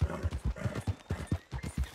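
Horse hooves in Red Dead Redemption 2 Online, a close, even clip-clop of a ridden horse with steady, regular beats of low thuds and a brief pause near the middle.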